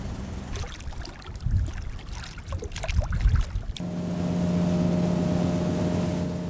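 Before dawn, a maritime police boat heads out to sea. Choppy splashing and wind noise come first, then a steady, droning motor hum takes over and holds at constant volume.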